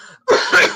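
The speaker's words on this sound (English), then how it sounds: "I needed to cough" A single close, loud human cough, a short rough burst following a brief quiet gap.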